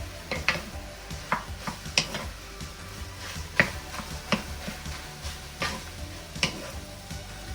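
Cooked rice is stir-fried in a pan for Fukien fried rice: soft sizzling under irregular clacks and scrapes of a spatula against the pan, moderately quiet with no voices.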